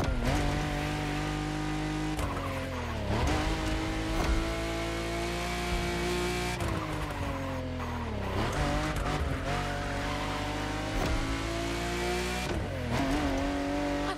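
Lamborghini racing in The Crew Motorfest, its engine holding a loud, steady drone while tires squeal and skid through repeated sliding turns, pitch dipping and climbing as it powers out of each one.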